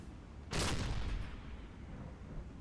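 A torpedo hit exploding on a ship in the submarine game Silent Hunter 3, a single sudden heavy boom that rolls on into a long rumbling decay.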